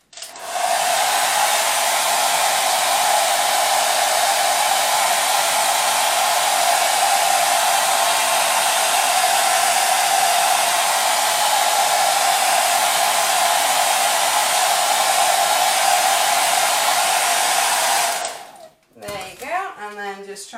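A hair dryer blows steadily and loudly to heat the glue on peel-and-stick kitchen backsplash tile stickers, running continuously before shutting off, with a voice speaking briefly at the end.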